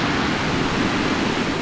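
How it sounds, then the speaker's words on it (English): Heavy winter surf breaking on a beach, a steady close roar of churning water and spray with no distinct individual crashes, continuous and loud throughout. "There's some big waves going to come in here."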